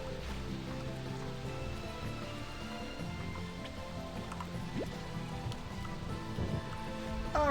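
Rain falling in the video game Slime Rancher 2, a steady dense patter of drops and trickling water running throughout at even loudness, with no talking.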